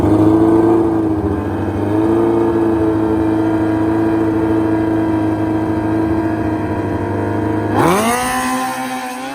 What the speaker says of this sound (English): Here comes Sonny Vic in the Rat Rod Bomber Hayabusa